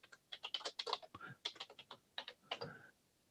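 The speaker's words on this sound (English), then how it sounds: "so you type it in" Rapid bursts of computer keyboard typing, crisp close keystrokes in quick runs with short gaps, ending after a few seconds.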